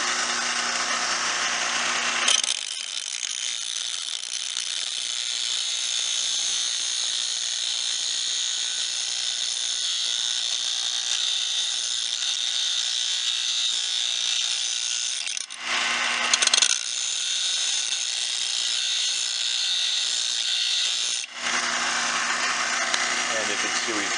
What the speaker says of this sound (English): Obviously, common sense safety when you're using a grinder like this, eye protection.